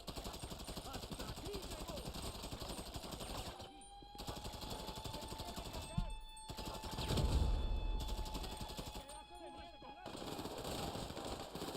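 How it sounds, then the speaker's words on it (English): Rapid automatic gunfire rattles through a GTA Online heist in long sustained bursts, loud and fairly close, with brief pauses between volleys and some faint background voices. "they're rapid firing again"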